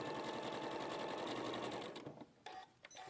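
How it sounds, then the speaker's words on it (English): A sewing machine runs in a steady, rapid whir as it stitches across the corners of a fabric bag, then slows and stops in short bursts near the end. "And then we're going to sew on that line on all four corners."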